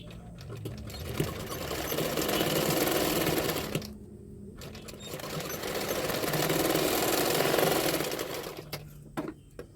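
A sewing machine stitching the katori joint of a blouse runs in two long steady whirring passes with a short pause between, close and fairly loud with no talk.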